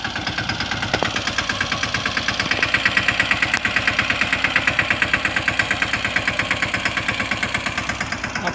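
Mini tractor engine running steadily in a peanut field, a loud, rapid rhythmic chugging with regular knocking pulses that continues unbroken throughout, close by and alone with no talk.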